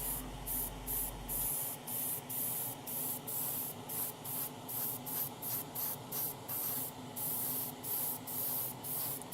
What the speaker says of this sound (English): as always is the case with Zero Paints, I'm just doing a couple of light coats to start with, just to get the initial bite into it